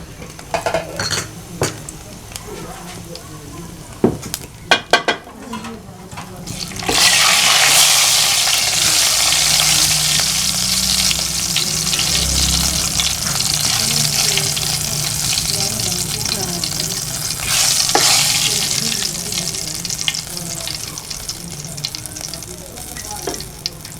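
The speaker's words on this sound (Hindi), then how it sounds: "अब मैं इसमें डालता हूँ ये गोल वाली जो मिर्चें हैं, 7 अदद मैंने मिर्च ले ली हैं, इस ऑयल में डाल देता हूँ" Round chillies and cumin dropped into hot oil: after some scattered utensil clatter, a loud sizzling burst erupts and keeps hissing steadily, with faint clinks over it.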